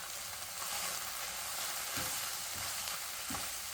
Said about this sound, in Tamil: இது கொஞ்சம் இப்படி பொரிஞ்சும்போது நல்ல ருசியாக இருக்குது